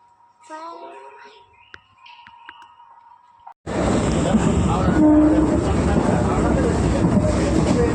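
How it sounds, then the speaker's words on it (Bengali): A train departs: after a few quiet seconds with faint tones and sparse sounds, a loud, steady rail rumble suddenly takes over and roars on close and unbroken to the end. "তো পুরো 5টা 45 ট্রেনটা ছেড়ে দিয়েছে।"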